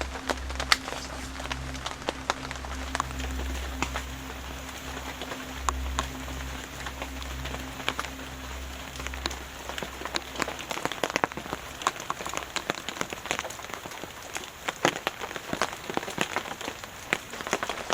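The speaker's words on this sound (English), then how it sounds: "Listening to the rain" Steady rain patters on a surface, with dense scattered drops and heavier taps close by, over a low rumbling hum that fades out partway through.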